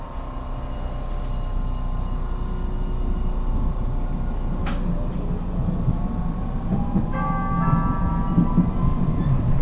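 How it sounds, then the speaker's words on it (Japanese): A Hiroshima tram rolls along its rails with a steady low rumble and hum, a sharp click midway, and rising motor whine as it picks up speed. "電車が動きます。 お捕まりください。"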